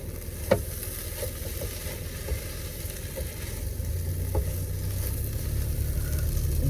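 Vegetables sizzle steadily in melted butter in a pan, a constant close hiss with a few light knocks as the food is stirred, and the frying swells a little louder toward the end, with no talking.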